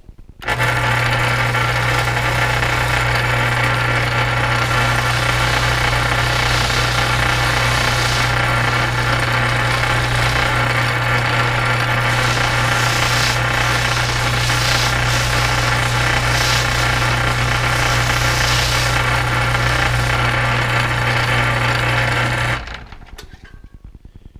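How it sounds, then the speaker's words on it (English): Polishing wheel with rouge buffing the metal body and sheath of an ice pick: a loud, steady motor whine with a constant hum runs unbroken, then cuts off and winds down at the end. "The last thing I want to do is polish both the body and the sheath. I'll add a little rouge to the wheel."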